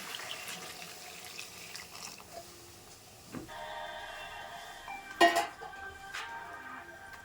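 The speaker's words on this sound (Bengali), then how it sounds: "এবারটা কিন্তু আমি জল দিয়ে দিচ্ছি" Water is poured into a pot of mutton cooking on a kitchen stove, a faint steady trickle with a few clinks, a louder splash and sizzle burst near five seconds, and no speech.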